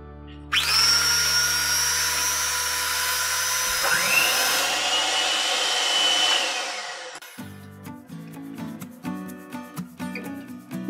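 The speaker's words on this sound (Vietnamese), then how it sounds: "Bây giờ mình sẽ dùng cái máy đánh nha các bạn. Và mình sẽ đánh lên." An electric hand mixer whips cream at high speed for milk tea ice cream with black sugar pearls, a loud steady whine that shifts pitch partway through, then stops, leaving clinking and scraping.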